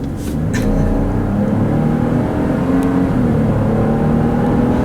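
A 2018 Ford F-150 Lariat with the 2.7-liter EcoBoost engine and 10-speed automatic accelerating, heard as a loud, steady, close engine drone from inside the truck with a couple of faint clicks and no talking.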